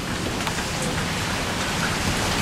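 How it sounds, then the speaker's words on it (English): Steady rain falls outside on a Saturday morning in Memphis, an even broadband hiss of drops on surfaces with no pauses, fairly close and continuous, without voices. "I can't get out there in the rain"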